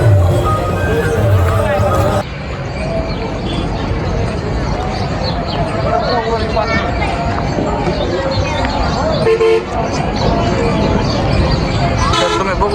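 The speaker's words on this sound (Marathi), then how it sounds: "तर तुम्ही बघू शकता किती गर्दी आहे. खूप सारी गर्दी आहे." A dense crowd of pilgrims gathers at the Chandrabhaga river in Pandharpur, a loud continuous babble of many voices with shuffling and movement close around, and nearby speech over the din.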